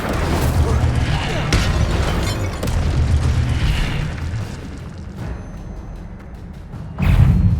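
Incendio fire spell in Hogwarts Legacy, rumbling fiery blasts and booming bursts rolling over a dense game soundscape, with a fresh loud burst near the end.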